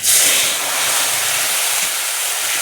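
Ground spice paste hits hot oil with fried onion for a rohu fish and potato curry, bursting into a loud sizzling hiss that then settles into a steady, close crackle.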